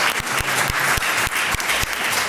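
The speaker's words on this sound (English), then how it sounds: "All the speakers deserve a round of applause for just" Applause from a conference audience for the day's speakers, a steady dense wash of clapping with no talk over it.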